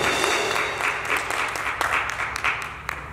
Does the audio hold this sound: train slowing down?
no